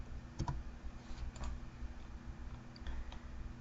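A few scattered keystrokes on a computer keyboard as a 1.5-inch measurement is typed into drafting software, soft clicks spread over a low steady hum.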